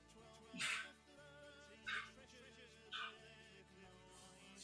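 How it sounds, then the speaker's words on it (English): A pet dog barks softly in her sleep, three short muffled yips spaced about a second apart, rising over a steady hum of background noise. "my dog was like barking in her sleep"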